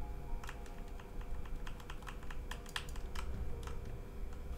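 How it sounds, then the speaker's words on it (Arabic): Rapid, irregular clicks of a mechanical keyboard being typed on continuously over a steady background hiss, close and moderately loud. "ما هو كيبورد ميكانيكال"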